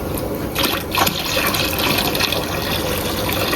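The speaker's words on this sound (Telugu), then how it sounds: "ఇంకో చేతితో అయితే వాటర్ పోస్తున్నా" Water poured by hand into a tank of home-bred betta fry makes a continuous, close gushing and splashing that stays loud and steady throughout.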